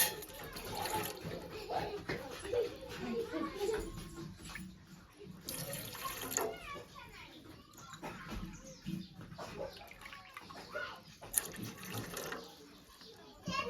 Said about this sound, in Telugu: మూడు గ్లాసులు నీళ్ళు తీసుకుంటున్నాను